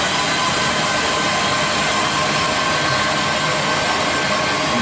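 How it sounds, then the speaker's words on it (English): Drive shafts whirring inside an aircraft wing mechanism on display at an aerospace museum, a loud, continuous broadband mechanical roar with no pauses. "You see all the drive shafts inside there, all whirring out."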